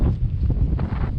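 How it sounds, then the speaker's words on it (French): Strong wind roars and buffets the microphone high on a mountain pass during a multi-day trek, a continuous close rumble with gusty swells and no talking. "Il y a beaucoup de vent"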